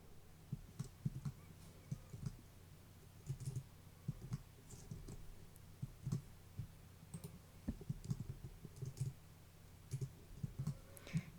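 Typing on a computer keyboard, a quiet, close series of irregular clicking keystrokes that come in short bursts and pauses over a soft background.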